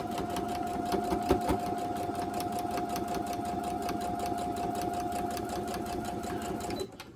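A sewing machine stitches quilt block seams in a continuous run of about seven seconds, a steady mechanical purr with a rapid regular needle rhythm, moderately loud and close, stopping near the end.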